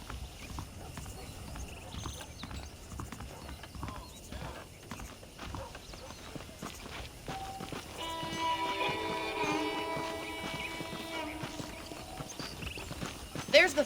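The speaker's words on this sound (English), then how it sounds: "The horses are saddled up over here." Horse hoofbeats in the video game Red Dead Redemption, a soft steady clip-clop of a saddled horse walking at moderate distance, with a character's voice speaking over it and a brief tonal swell of ambience partway through.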